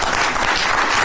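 A studio audience claps in a brief, dense wash of applause that fills the moment without pause.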